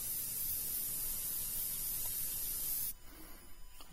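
An airbrush sprays transparent pale flesh paint onto a figure in a steady, close hiss for about three seconds, then cuts off to quiet handling noise.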